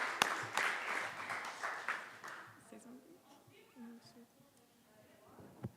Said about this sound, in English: Another round of applause for our fellow